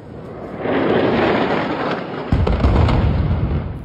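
Explosions in the eastern part of Khan Yunis, Gaza, heard as a loud, dense roar of rumbling blasts that swells early and then hits harder with a deep boom about midway, continuing as sustained heavy thunder.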